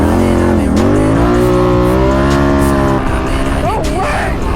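A nitrous-fed Can-Am side-by-side in four-wheel drive launches down a drag strip, its loud, close engine dipping briefly before climbing steadily in pitch as it accelerates, with a short shout from someone nearby toward the end.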